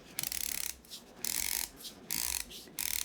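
Adjustment dial of a ZP6 hand coffee grinder being turned in several short bursts of clicking, close and fairly quiet, separated by brief pauses.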